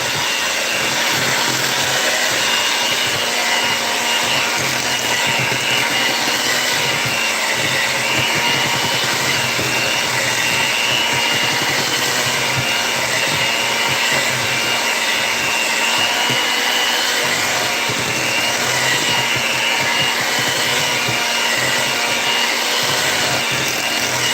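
An electric mixer beats coffee cake batter in a continuous, even whir that holds steady for the whole stretch, loud and close, with no talking.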